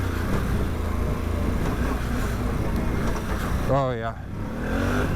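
A 2021 Can-Am Outlander 850 XMR ATV engine drones loudly and steadily, swelling briefly on the throttle, with a voice briefly exclaiming over it.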